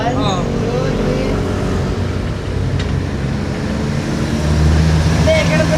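A Hyundai Starex van engine runs at idle with a steady, loud, close low rumble throughout. A voice is heard faintly and briefly near the start.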